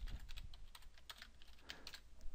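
Someone types on a computer keyboard with quick, light, irregular key clicks, faint and close, with no talk.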